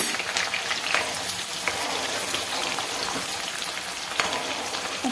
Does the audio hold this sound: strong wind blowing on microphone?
no